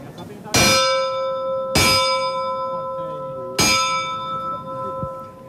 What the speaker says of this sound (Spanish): Ahí están esos toques de campana que indican que debe levantar el trono de la Sagrada Cena Sacramental de Nuestro Señor Jesucristo